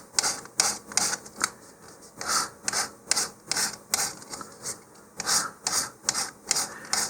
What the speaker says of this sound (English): I am going to take an emery file here and just roughen up the shoulder a little bit